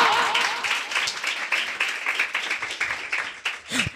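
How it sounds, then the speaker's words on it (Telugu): A congregation at a Sunday service claps in a loose, pulsing rhythm, the applause rising and falling in waves while a voice calls out briefly near the end. "చప్పట్లు కొడతారా?"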